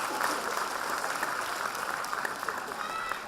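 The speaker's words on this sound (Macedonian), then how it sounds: "А сега голем аплауз до Палма Мол" A crowd claps steadily at a children's summer festival, continuous applause at moderate distance with faint voices mixed in.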